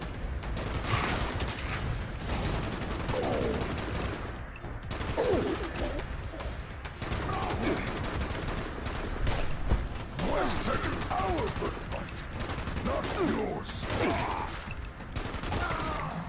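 Rapid bursts of gunfire in the video game Fallout 76 crackle steadily throughout, dense and continuous, mixed with clanking mechanical noises while a person talks over the action.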